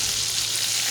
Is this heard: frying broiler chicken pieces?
yes